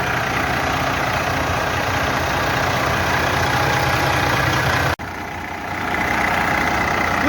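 A Freightliner truck's rebuilt 500 hp Detroit diesel idling: a loud, steady, close rumbling drone with a brief sharp break near the end before the idle carries on slightly quieter.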